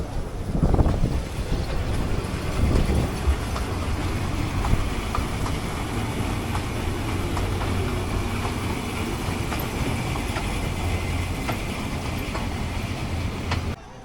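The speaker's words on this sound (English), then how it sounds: "There goes the train." A train rumbles past nearby with a continuous heavy roar and faint rhythmic clacking, mixed with wind buffeting the microphone.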